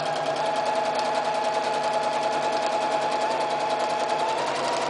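A sewing machine stitches fabric for quilting, running steadily and continuously with a fast, even mechanical whir and rapid needle chatter, close and loud with no pauses.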